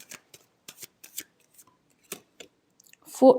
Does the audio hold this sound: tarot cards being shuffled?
yes